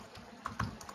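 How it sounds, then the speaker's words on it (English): Quick bursts of typing on a computer keyboard, a few light irregular clicks heard close up against a faint background hum. "my typing is horrible"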